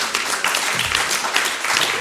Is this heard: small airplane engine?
no